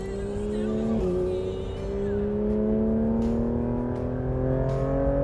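A Porsche 911 GT3 RS 992 on Pirelli Trofeo RS tyres laps Spa-Francorchamps, its flat-six holding a loud, steady high-revving drone that climbs gradually after a brief shift, close and continuous from the cockpit.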